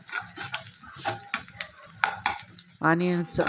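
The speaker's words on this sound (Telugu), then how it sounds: "ఇప్పుడు కొద్దిగా కరివేపాకు కూడా వేసుకొని వేయించుకుందాం." Sliced onions and curry leaves fry in oil in a pan for a brinjal and dried fish dish, with close, irregular scraping stir strokes over a sizzle that grows louder and steadier at the end.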